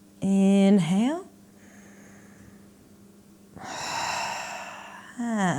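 Audible breathing during a yoga backbend session: a sharp inhale near the start, a long quieter stretch, then a fuller airy breath and another inhale at the end, with a voice speaking between breaths.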